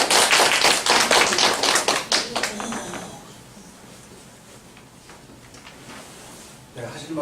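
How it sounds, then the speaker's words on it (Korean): A lecture audience in a Korean library humanities class applauds loudly, a dense burst of clapping for about three seconds that fades out, followed by quiet room noise. "박수 한번 주세요."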